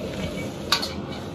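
Peanuts being stir-fried in a wok for salt-baked peanuts, a dry scraping and rattling stir with one brief metallic clink partway through, steady and close with no talking.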